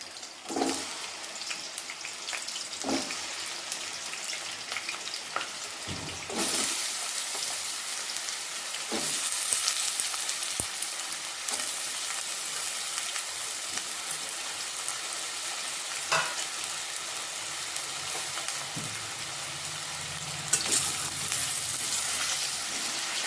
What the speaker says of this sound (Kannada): ಸ್ಲೈಸ್ ಮಾಡಿ ತೊಳೆದಿಟ್ಕೊಂಡಂತಹ ಒಂದು ಆಲೂಗಡ್ಡೆ ಏನಿದಾವಲ್ಲ ಇವುಗಳನ್ನು ಫ್ರೈ ಮಾಡ್ಕೋಬೇಕು